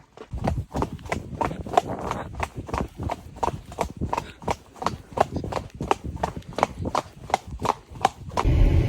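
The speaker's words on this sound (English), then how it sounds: "I think that might be horses over there" Horse hooves clip-clop in a steady walking rhythm, a long run of sharp, fairly close knocks repeating roughly twice a second, with a rougher rumble at the very end.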